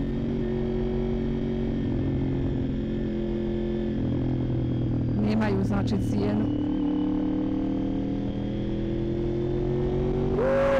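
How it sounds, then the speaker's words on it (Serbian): A Honda VFR 750 motorcycle engine runs steadily and close by, its low hum holding throughout, with a brief rev burst midway and another rise at the end while someone talks over it. "ovaj motor se čuje brutalno"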